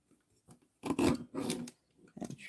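Paper being trimmed with scissors during a card-making project, a few short close crisp cutting and rasping strokes separated by brief silences.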